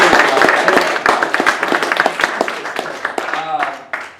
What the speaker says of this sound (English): Let's give Shane another round of applause.